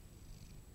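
A content cat purrs softly and steadily while being fed green beans by hand, a faint, brief low rumble with no voices.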